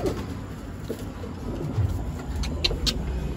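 Racing pigeons coo softly at their loft, with low, throaty calls rising now and then over a steady background hum and a faint passing car.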